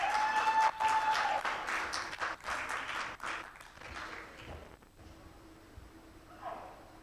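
Conference audience at an African women's environment, health and safety awards event applauding a speaker, steady clapping that thins and fades toward the end.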